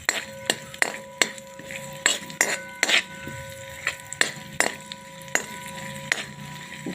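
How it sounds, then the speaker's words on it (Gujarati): Raisins roasting in ghee in a pan for panjari, with a spoon clinking and scraping against the metal in a steady rhythm of sharp knocks over a soft sizzle. "હવે આપણે દ્રાક્ષ નાખી દઈશું, એને પણ શેકી દઈશું સરસ"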